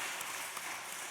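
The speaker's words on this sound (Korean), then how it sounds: "다시 한번 감사 박수 한번 하겠습니다" Faint, steady applause fills a church during a Sunday afternoon service, following a women's choir performance. It is a soft, even wash of many hands clapping at a distance, with no clear voices.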